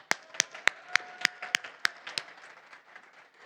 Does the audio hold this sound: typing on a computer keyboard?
no